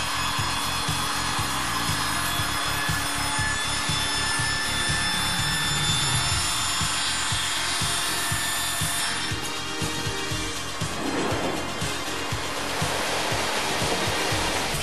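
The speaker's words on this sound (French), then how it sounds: "La scie à 4 axes permet de réaliser automatiquement des coupes de chevron" A Hundegger four-axis automatic saw cuts timber rafters in a carpentry workshop, a continuous loud grinding, rubbing whir with rapid rhythmic texture and no voices.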